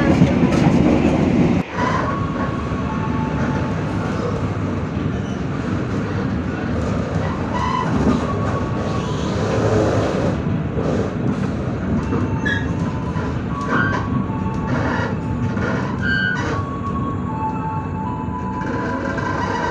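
The KA Singasari passenger train runs at night between Wates and Kutoarjo stations in Java, giving a loud, steady rumble with rhythmic wheel clatter throughout, heard from close by on board.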